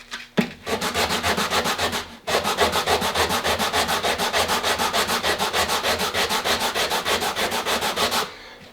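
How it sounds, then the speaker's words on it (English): Sandpaper rubbed back and forth over the wooden comb piece of a Citori shotgun stock, a brisk, steady rasping rhythm of many quick strokes after a short pause, close and loud. "sanding paper is really good for finishing"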